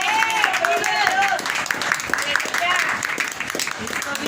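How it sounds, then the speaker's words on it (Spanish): Applause for Christ at a church service, a crowd clapping under continuous talk, with voices rising and falling over the patter of hands. "Denle un fuerte aplauso a Cristo."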